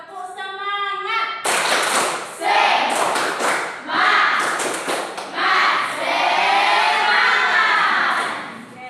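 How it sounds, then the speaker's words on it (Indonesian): A classroom group claps out a chanted cheer, with a steady, punchy rhythm of hand claps mixed with voices for several seconds. "ayo kita tepuk semangat"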